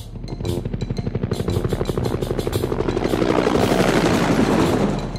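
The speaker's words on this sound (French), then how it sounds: "Regardez l'hélicoptère qui s'envole." A cartoon helicopter taking off in a children's nursery rhyme song, its rotor thumping in a fast, steady pulse that grows louder and denser, joined by a rising engine roar.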